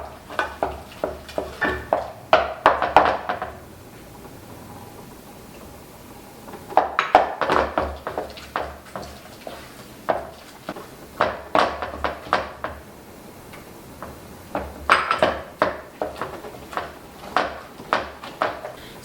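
Churro dough with eggs is stirred by hand in a bowl, producing clusters of close, uneven knocks and scrapes separated by quieter pauses.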